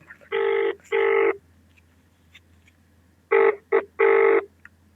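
Outgoing phone call ringback tone: two paired rings, each a pair of buzzing tones, separated by a quiet gap, heard clearly over faint background hiss with no talking.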